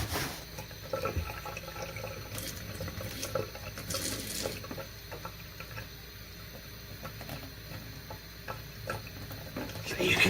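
A kitchen tap runs in a thin, steady stream straight down, a faint continuous hiss with small splashes and clicks, with no voices over it.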